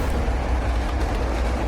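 A moving train in an animated chase scene gives a loud, steady low rumble of wheels and carriages with a faint rhythmic rattle and no talk.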